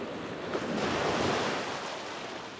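Ocean surf washing onto a sandy beach beside a gutter on a bright, clear day, heard as a steady, broad rush of breaking water that swells and slowly fades over a couple of seconds, with some wind buffeting the microphone.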